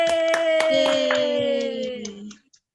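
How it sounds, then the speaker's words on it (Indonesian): A class lesson for fifth graders with hand clapping in a few quick claps under a sustained sung or voiced tone that slides down, close and fairly loud, ending abruptly. "Mari tepuk tangan"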